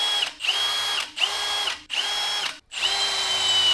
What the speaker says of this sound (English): I'm just gonna center drill crisscross pattern all the way around